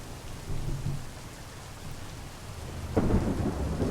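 Steady rain with a deep thunder rumble that swells near the end, a loud storm alone with no voices.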